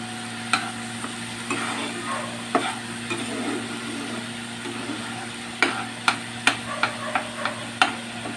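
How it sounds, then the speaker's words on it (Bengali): Lentils for dal frying in a pan, a quiet sizzle under a steady hum, broken by scraping stirs and a run of sharp spoon taps on the pan's edge toward the end. "খুব ভালোভাবে ডালটা নেড়ে চেড়ে ভেজে নিতে হবে।"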